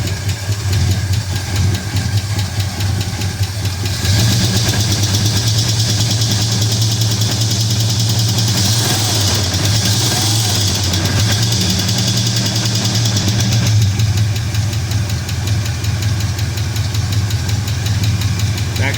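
A 1974 Ford LTD engine runs loud and close for about nineteen seconds, its steady rumble climbing as the throttle is revved and then settling back, with no talking.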